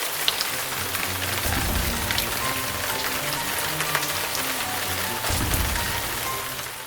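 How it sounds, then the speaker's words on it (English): Steady rain falls on a surface, a dense even patter with heavier gusty swells partway through and again near the end, and no voices over it. "the wind drove the clouds up and the rain began to fall."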